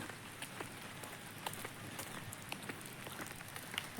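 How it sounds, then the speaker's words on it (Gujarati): Light rain falls steadily on surfaces outdoors along a road past green fields, with soft scattered drops pattering throughout and no talking. "ધીમો ધીમો વરસાદ ચાલુ છે"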